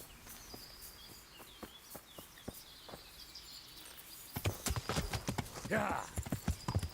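Horse hooves clip-clop in the Kingdom Come Deliverance video game, first as sparse, faint footfalls and then as a quicker, louder trotting rhythm, with a brief snort or whinny near the end.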